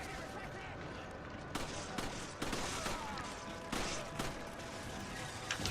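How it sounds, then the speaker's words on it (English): Gunfire in the video game Resident Evil 5, with several sharp shots cracking out over a steady busy game soundscape, while a player's voice talks throughout. "Shoot the guy shooting at us."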